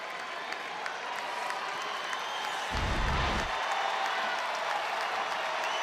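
A crowd of nearly 19,000 at a Cincinnati Reds home game against the Cubs rises in sustained applause and cheering, a broad, steady roar that swells briefly partway through.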